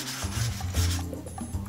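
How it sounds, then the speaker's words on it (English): Sandpaper and an abrasive drill attachment smoothing the trimmed edge of a vacuum chamber lid after angle grinding, a short close rubbing and rasping scrape. "cleaned it up with an abrasive drill attachment and sandpaper"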